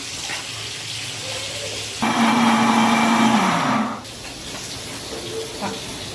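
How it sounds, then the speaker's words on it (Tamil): A mixer grinder whirs loudly for about two seconds grinding onions and tomatoes for fish kuzhambu, then cuts off, with quieter kitchen sounds before and after. "இப்போ நம்ம இதை ஒரு மிக்ஸி ஜாரில் சேர்த்து இதை நம்ம அரைச்சிக்கலாம்"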